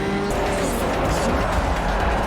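Fast race cars and traffic in the Forza Motorsport 4 racing game roar steadily and loudly, with engines droning and a hint of tire noise throughout.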